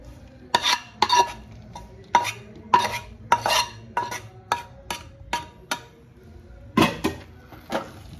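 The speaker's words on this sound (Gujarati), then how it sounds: "સરસ રીતે આ રીતે આપણે મિક્સ કરી દઈશું." A spoon knocks and scrapes against a pan as pedha mawa is mixed into Salampak, a sweet from Surat, giving a steady run of sharp metallic clacks and scrapes with brief pauses and no voices.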